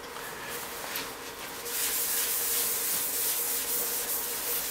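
Cloth wiping finish onto a wood piece spinning on a lathe, a soft continuous rubbing hiss that grows louder and rougher partway through, close and steady with no voices.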